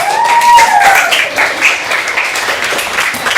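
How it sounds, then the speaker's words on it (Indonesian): Classroom applause from fifth-grade pupils for their classmates, a loud burst of scattered hand clapping, with a faint voice and tonal sounds above it. "Tepuk tangan buat teman-temannya."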